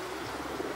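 Racing pigeons at the loft cooing softly, a brief low murmuring coo over steady background noise, close by and alone without speech.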